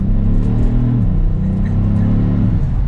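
A 2022 Kia Stinger GT2 RWD engine pulls hard under acceleration, a loud, steady rumbling drone heard from inside the cabin that rises in pitch, dips briefly at a shift, then climbs again, with no voices.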